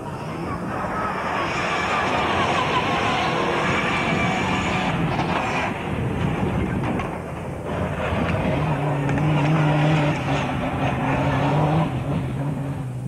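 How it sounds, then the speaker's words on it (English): A Mitsubishi Pajero rally car with a special competition gearbox drives hard in a 1990 Middle East rally in Jordan, its engine roar and gearbox whine rising and falling over continuous loud mechanical noise. "Suhail Al Khalifa in the Mitsubishi team's impressive Pajero, with its distinctive whine of the special competition gearbox"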